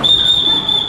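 A lifeguard's whistle at a swimming pool gives one short, shrill, steady blast, loud and close, with no voices over it.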